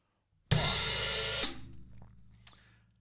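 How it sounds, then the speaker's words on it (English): Open hi-hat and bass drum struck together on beat 1 of a groove, a single loud hit with a long ringing wash that is choked after about a second, followed by softer trailing hits. "So we start the groove with our long hi-hat open on beat 1."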